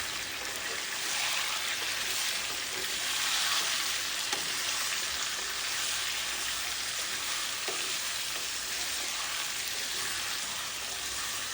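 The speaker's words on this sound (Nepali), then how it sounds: "अब यही तेलमा फेरि अर्को लटको चिकनलाई राख्ने फ्राई गर्नको लागि" Chicken pieces fry in hot oil with a steady, close sizzle and bubbling hiss. The sizzle holds through the whole stretch with faint occasional clicks, and no one speaks.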